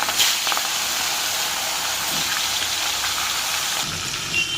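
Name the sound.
hilsa fish sizzling as dropped into hot oil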